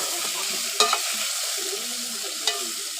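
Chopped onions sizzle steadily in a hot pan as they are stirred, with a few sharp clicks of the utensil against the pan over a constant frying hiss.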